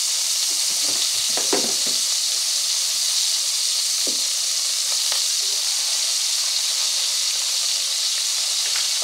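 Ham steaks fry in a butter and brown sugar mix in a pan over medium heat, giving a steady, close sizzling hiss with a few light scraping clicks of stirring.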